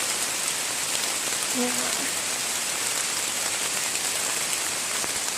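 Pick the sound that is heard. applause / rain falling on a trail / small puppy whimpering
rain falling on a trail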